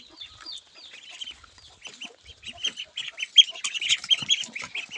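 A flock of ducklings peeps and quacks in high, busy chirps while being fed, growing denser and louder toward the end, close by with no talking.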